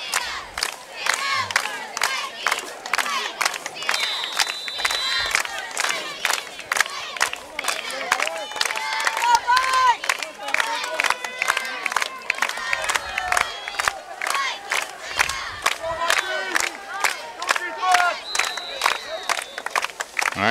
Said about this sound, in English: Cheerleaders getting the crowd into it now.